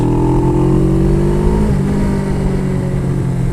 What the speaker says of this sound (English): I'm on kind of a sport bike